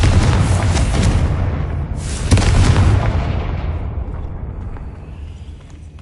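A Confringo spell explosion in a video game lands as a heavy, close boom and a second blast soon after, each rolling into a long, fading rumble.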